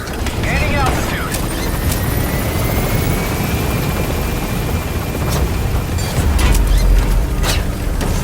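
A helicopter from the video game Metal Gear Solid V lifts off, its loud, steady rotor roar filling the whole stretch and swelling slightly near the end.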